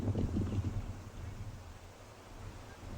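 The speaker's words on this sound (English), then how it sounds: "You can see it's quite windy" Wind blows across the African savanna near a watering hole where a lion waits for antelope, a steady low rumbling roar that buffets loudest at first and then settles into a softer continuous gust.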